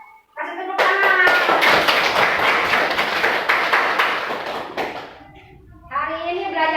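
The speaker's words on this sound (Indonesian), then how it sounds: "kasih tepuk tangan." A burst of lively applause and clapping from children in a classroom fills the room for several seconds, with children's voices before and after.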